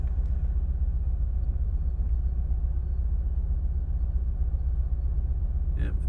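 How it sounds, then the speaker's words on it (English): Winter storm wind buffeting a microphone on a snowy beach, a loud, steady low rumble that runs throughout without letting up. "Hopefully that wind noise isn't too bad."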